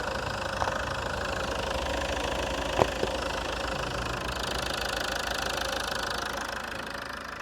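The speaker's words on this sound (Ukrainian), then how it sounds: "Зараз виключу двигун." A 2009 Citroen C5 2.2 diesel engine idles steadily with a constant rumbling, knocking drone, close by, with a couple of faint clicks partway through.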